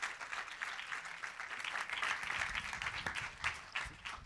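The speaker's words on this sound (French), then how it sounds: "On peut encore applaudir la série, s'il vous plaît." An audience at a stage event applauds a series, a fairly faint, continuous wash of clapping from a crowd with a few sharper individual claps standing out.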